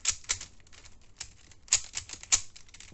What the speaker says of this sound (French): pour commencer, on va mélanger le cube.